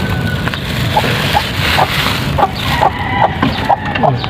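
A broody hen sitting on eggs in a native chicken coop clucks in a steady series of short, close calls, repeated every half second or so against a noisy rural background.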